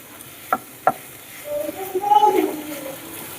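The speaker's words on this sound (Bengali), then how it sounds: "পাস্তাটাকে ভালোভাবে মিক্স করে নেব সবকিছুর সাথে" Chicken pasta with spices is stirred in a pan, starting with two sharp clacks of the utensil and followed by a soft, scraping stir and faint sizzle up close.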